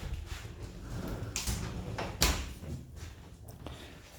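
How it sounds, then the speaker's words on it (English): Sliding closet doors in a Florida home roll and bump along their tracks, with several scrapes and a sharp knock midway, moderately close, in a quiet room without talk. "Sliding doors on it."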